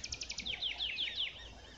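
Small birds sing near an observation hide at a bird fair site, a quick series of bright chirps and sweeping whistled notes over faint background hiss, fairly close.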